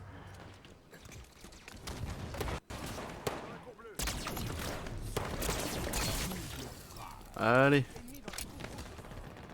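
Gunfire in a French-language video game stream, a dense stretch of rapid shots and fusillade bursts running under continuous chatty speech, with a brief tonal sweep near the end.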